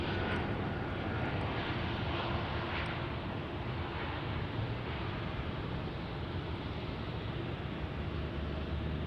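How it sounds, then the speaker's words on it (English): An Embraer E-175 airliner arrives at DFW airport with a steady, broad jet roar that holds constant and fairly distant across the whole stretch, with no talking. "An E-175 arriving inbound."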